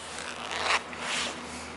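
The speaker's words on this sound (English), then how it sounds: "Talon zippers on there." A Talon zipper on a reversible Lee leather trucker jacket is pulled: two quick raspy zips, close and moderately loud, with a short pause between them.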